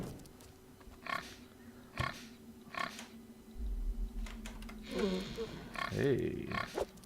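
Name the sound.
pig rat grunting in video game Rogue's Tale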